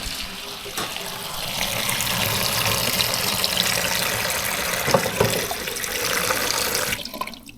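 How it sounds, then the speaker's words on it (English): Water runs steadily from a tap over cooked dumplings and white yams in a pot, a loud, close, continuous gush and splash that cuts off near the end. "I like to throw water. I will put the water on them."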